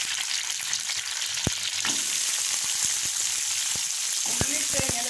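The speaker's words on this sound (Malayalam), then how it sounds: "ചെറിയ ഉള്ളി ഇട്ട് കൊടുക്കുന്നുണ്ട്." Small onions (shallots) sizzle in hot oil in a pan after a green chili, making a constant dense hiss with sharp crackles and pops throughout, close and clear.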